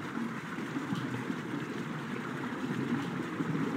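Loud running water in the Baldi's Basics video game, a steady rushing, splashing wash that stays constant and close throughout, with no speech over it.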